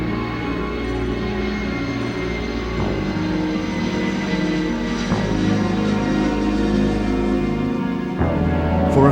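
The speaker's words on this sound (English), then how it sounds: "the largest of the static display airplanes materializes out of the rain and fog" Large static display airplane arriving through rain and fog at an airshow, a steady loud droning engine rumble with tonal hum throughout, briefly shifting near the end.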